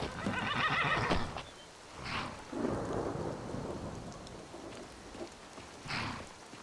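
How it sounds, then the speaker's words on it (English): A horse in the virtual-reality game Skyrim VR neighs loudly and close, then whinnies again a few seconds later, over a steady bed of rain and rolling thunder. "I see a horse in the pool."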